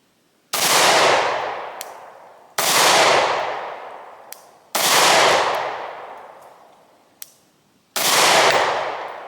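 A Glock pistol fires four loud, sharp shots at steady intervals about two seconds apart, each with a long fading ring, and a faint metallic clink follows between shots.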